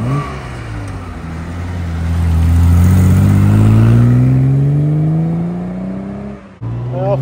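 A 1967 Aston Martin DB6 Volante drives past, its engine note rising and swelling loud as it nears, then fading with a slight pitch drop before a brief gap and another engine surge at the end.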